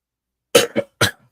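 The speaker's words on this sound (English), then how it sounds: "this cough is killing me" Three harsh coughs in quick succession, close and loud, with a short pause before the last one and nothing else around them.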